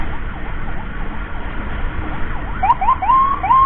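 Road and engine rumble from a moving Mitra Medika ambulance fill most of the stretch, with a fainter wailing siren in the background until a sharp, loud yelp siren cuts in close near the end.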